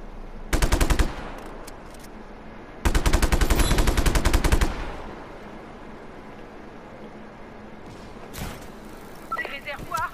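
Just Cause 3 game combat: two long bursts of rapid automatic gunfire, loud and close, with a single sharp blast later and softer scattered pops near the end, over a low ambient bed.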